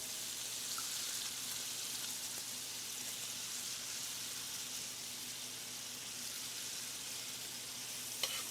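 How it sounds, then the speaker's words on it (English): Onions, peppers and garlic sauté in a hot pan for paella, giving a steady, close sizzle and crackle that holds even throughout with no voices. "You're going to saute those over heat."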